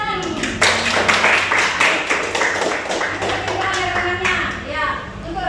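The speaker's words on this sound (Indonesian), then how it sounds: "Oke, tepuk tangan." A classroom group claps together in a steady burst of many hands, loud and sustained, with children's voices mixed in underneath.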